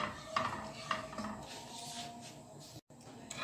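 A spoon stirs agar powder into milk in a pot, producing soft clinks against the metal and faint swishing, quiet and close, with a couple of sharper taps early on.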